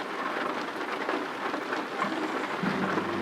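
Steady rain falls outside, together with rain in a truck-driving simulation game, making a dense, continuous hiss at low to moderate level with no talking.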